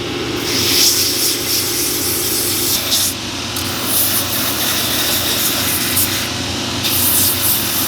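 Power sanding on the veg tan leather midsole of a pair of Lucchese boots, a steady close abrasive whir with hissy grit noise running the whole way through, with no talk.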